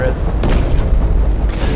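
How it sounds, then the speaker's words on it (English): Explosions in Just Cause 3 produce a loud, dense, rumbling barrage, with a sharper blast near the start and another near the end, carried by a continuous booming wash. "Everything's gonna go away with the booms."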